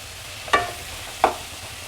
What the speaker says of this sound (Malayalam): സവാള നന്നായി ഒന്ന് മൂത്ത് വരട്ടെ.